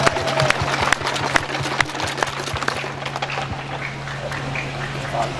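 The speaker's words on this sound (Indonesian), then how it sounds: "silakan berikan tepuk tangan" Clapping from an audience at a Nias traditional dance performance, a fairly loud, irregular patter of hands over a steady low hum, with scattered sharper claps standing out.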